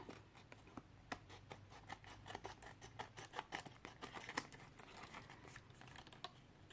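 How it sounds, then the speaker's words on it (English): Paper scissors cut through paper for a paper-quilting design, making a rapid, irregular series of crisp close snips and clicks with no voices. "I'm going to take the scissors and I'm going to cut"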